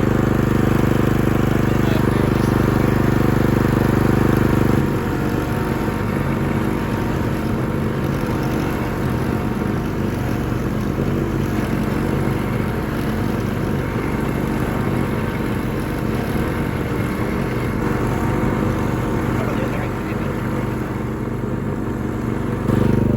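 A lawn tractor's small engine turns over and settles into a steady, loud running drone that continues throughout.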